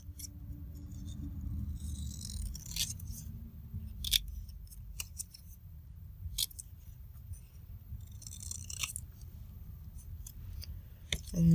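Quick scissor snips cutting journal cards from a master board of ephemera and book pages, a handful of crisp close cuts spread over a low steady background rumble.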